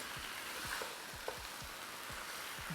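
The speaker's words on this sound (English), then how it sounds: "Give it a mix." Rice stirred into a simmering chicken and sausage jambalaya in one pot, steady sizzling with soft rhythmic scrapes of the spoon roughly twice a second, close and fairly quiet.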